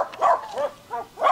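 Young Bac Ha bobtail dog, a large female whose ears are not yet upright, gives four short whining yelps in quick succession, close and fairly loud, with no talking.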